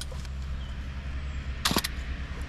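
A film camera shutter fires once outdoors among trees and ivy, a short sharp double click standing out close against a steady outdoor background hiss.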